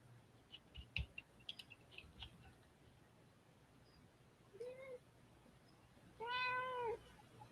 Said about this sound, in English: Oh, I hear kitty.